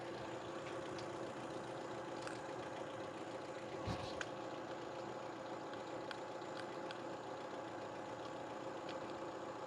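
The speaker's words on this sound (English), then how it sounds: "oh, you just heard the compressor kick on, I think" A car's air conditioning compressor kicks on and runs under a steady idling engine drone, with a brief louder knock near the middle and otherwise even, continuous mechanical hum.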